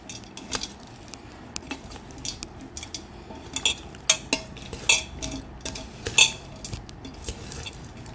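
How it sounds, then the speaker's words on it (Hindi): A spoon stirs mango and jackfruit pickle in a container, giving a run of irregular metallic clinks and scrapes, sharp and close, with no speech. "अब मैं इसको अच्छे से मिक्स कर दूँगी और फिर मैं इसको जार में भर दूँगी।"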